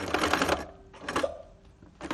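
A sewing machine stitches a dry hot water bottle in two close, loud bursts of rapid mechanical chatter separated by a short pause, with a third burst starting at the end.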